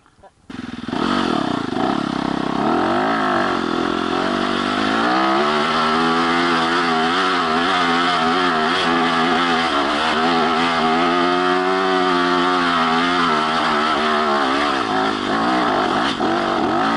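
Two-stroke dirt bikes rev hard up a hill climb, a loud, continuous engine roar with rising and falling revs close by, while riders talk over it; the bikes include a YZ250FX, KTM300, Husky300, Beta300 and KTM450SX.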